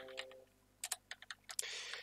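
Bursts of keystrokes on a computer keyboard, quick clicky taps in short irregular clusters, close and fairly quiet with no talk.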